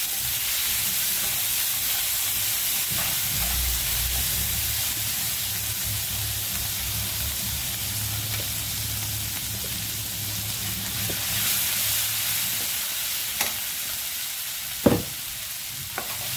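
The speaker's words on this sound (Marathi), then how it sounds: "आता ह्याच्यामध्ये टाकणार आहे जे मी सकाळीच ग्रेव्ही करून ठेवली." Tomato, mint, onion and coriander gravy sizzling in hot oil, a loud, steady, close hiss with occasional stirring clinks and a sharp utensil knock near the end.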